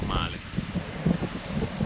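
Wind rushing over a sailboat on the open Pacific Ocean between Kiribati and the Marshall Islands: a steady, gusty roar with low rumble, and faint muffled voices underneath.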